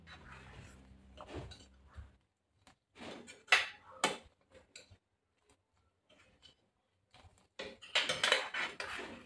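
Maharashtrian-style katachi amti simmering in a pot is stirred with a utensil, giving scattered metallic clinks and scrapes against the pot in short bursts with quiet gaps, close and fairly soft.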